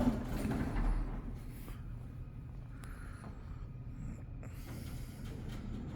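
A Westinghouse service elevator's front door slides shut inside a university science building, giving a low mechanical rumble and faint creaks that settle into a steady motor hum, with no talking.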